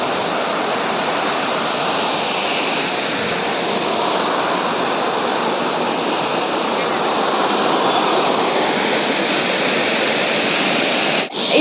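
A waterfall at Mapro Garden in Wai roars in a loud, continuous, dense rush of falling water, steady throughout and heard up close, with no other sounds standing out.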